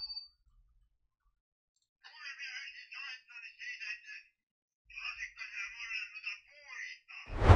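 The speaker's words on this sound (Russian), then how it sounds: "зазвонил телефон, и, пожалуйста, привезти дрова." Telephone ringing inside the My Summer Car game, a clean electronic trill sounding in two long bursts separated by a short silence, loud and alone without talk.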